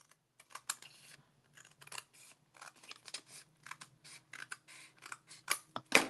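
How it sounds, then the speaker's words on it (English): Scissors snip through paper while trimming a paper bag mini album, a quick run of crisp separate cuts at close range with short pauses between them. "But I'm gonna just trim this off with my scissors."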